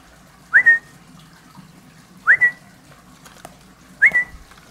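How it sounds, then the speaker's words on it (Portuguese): Three sharp, rising human whistles, evenly spaced and fairly close, signal a falcon during training. They stand out over a quiet outdoor background. "a gente vai começar com um apito, com um assovio"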